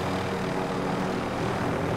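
Helicopter in the Call of Duty video game, a steady droning rotor and engine hum filling the whole clip at constant loudness, with no talking.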